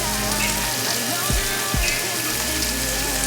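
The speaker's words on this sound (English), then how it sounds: "I put my steak on the electronic grill." A steak sizzles on an electric grill, a steady hissing sound, close and constant, with a couple of brief low thumps partway through.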